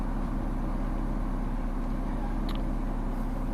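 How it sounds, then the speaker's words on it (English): A 1998 Ford Fiesta 1.3L engine idles at a steady low rumble, warmed up after running about ten minutes, with a faint brief tick partway through and no one talking. "the car is now running for about 10 minutes"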